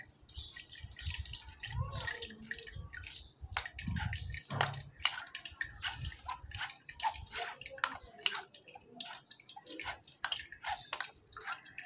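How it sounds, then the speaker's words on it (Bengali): Blended lychee juice is strained through a sieve, giving close, irregular splashing, dripping and trickling with soft handling clatter, moderately quiet and with no talk. "আমি এবার এটা ছাঁকনির মাধ্যমে ছেঁকে নেব।"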